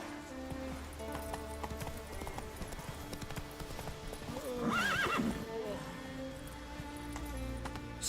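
Roach, a horse in The Witcher video game, clip-clops along in a steady gallop rhythm, with a loud whinny near the middle and some faint game sound around it, close and clear.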